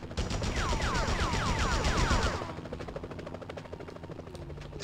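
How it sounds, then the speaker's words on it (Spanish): Rapid bursts of gunfire in the PS1 video game Spider-Man crackle alongside a whirring helicopter-like drone and descending whistles. The gunfire fades after about two and a half seconds, leaving a quieter mechanical hum. "Ya basta con los disparos."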